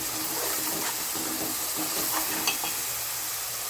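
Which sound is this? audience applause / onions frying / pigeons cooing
onions frying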